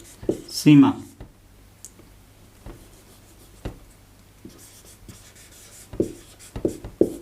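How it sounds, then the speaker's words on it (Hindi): Marker or chalk strokes on a board during a Hindi classroom lesson on the Indus Valley Civilisation, a few short scratchy bursts spaced apart, with a teacher's voice speaking briefly in between. "थोड़ा नीचे लिखते हैं, पूर्वी"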